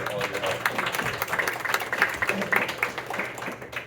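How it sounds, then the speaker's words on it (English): A parish gathering gives its volunteers a round of applause, a dense, steady wash of clapping from a room full of people that carries on for several seconds. "I'll give you a round of applause here"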